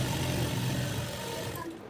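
A sewing machine stitching palazzo pants fabric gives a steady, close mechanical whir with a low hum underneath, holding fairly even before easing off near the end.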